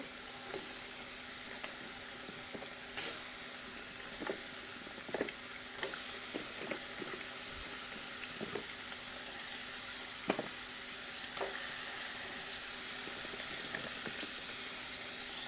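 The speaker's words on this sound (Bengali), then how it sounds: "তো এখন একটু সুন্দর করে কষিয়ে নেব।" Spices for a hilsa fish curry sizzle in a pan as they are stir-fried, a faint steady frying hiss under soft, scattered scrapes and taps of a spatula, heard without any talk.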